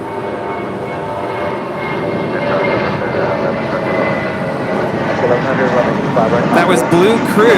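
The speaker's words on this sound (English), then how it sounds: "JetBlue crew departing to Cancun. JetBlue, flight 1570, a 14-year-old A320." JetBlue Airbus A320, about 14 years old, departing LAX with a steady broad jet engine roar that swells slightly over time, heard from a distance with faint talk in the background.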